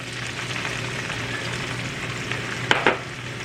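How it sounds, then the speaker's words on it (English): Spring onions hit well-heated oil for Indo-Chinese chilli chicken, giving a steady strong sizzle with a couple of sharp clicks near the end, close and loud. "heat up the oil really well, and then we will add 3/4 cup of spring onions"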